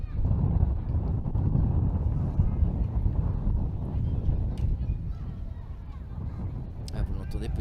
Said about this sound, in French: vous l'entendez peut-être à travers les micros, le vent qui se lève de plus en plus